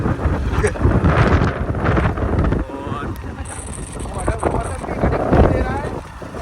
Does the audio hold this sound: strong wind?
yes